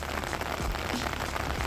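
Steady rain falls outdoors during a road trip in South Korea, making a dense, continuous hiss of drops hitting surfaces close by, with no voices.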